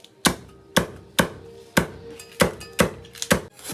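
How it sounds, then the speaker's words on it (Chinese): Scallion and ginger chopped with a cleaver on a board for braised pig's head, seven loud, crisp knife strikes at a slow, fairly even rhythm, close and alone. "切点葱姜。"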